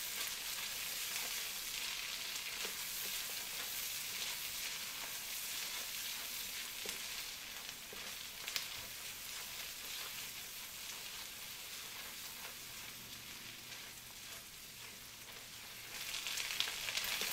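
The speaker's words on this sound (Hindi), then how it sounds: "एक मिनट तक हमने अदरक और हरी मिर्चों को फ्राई करना है" Ginger paste and green chillies fry in a pan, giving a faint, even, rain-like sizzle that holds steady throughout, with a few light stirring taps.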